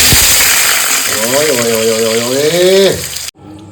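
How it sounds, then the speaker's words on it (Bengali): Small round potato slices fry lightly in hot oil, giving a loud, continuous sizzle while a voice speaks over it midway; the frying cuts off abruptly near the end. "এবার চাকা চাকা এটা ছোট্ট ছোট্ট চাকা চাকা আলু এটা হালকা ভেজে নেব"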